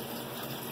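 Water pours and gushes through an aquaponics sand bed, a steady near rush that runs the whole moment without pause.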